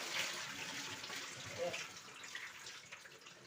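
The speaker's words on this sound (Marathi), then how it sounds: "सगळे धुवून टाकते मी डाळ्या सगळ्या डाळी स्वच्छ धुवून घेते" Lentils being rinsed under a running kitchen tap, with a steady, moderately faint hiss and splash of flowing water that continues throughout.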